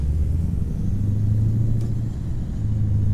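A Mack CHU Pinnacle truck engine drives in American Truck Simulator, giving a steady, deep, loud rumble that holds throughout with a low drone and no voices.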